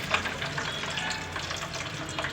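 Garlic frying in a pan, a steady soft sizzle with light crackling and occasional stirring scrapes, close and continuous with no talk.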